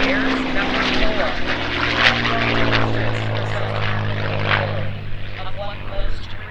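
A propeller warbird fighter, a CAF Red Tail aircraft, drones steadily overhead at a 2019 airshow, its engine a loud sustained roar that swells and fades as it passes, with an announcer talking over it.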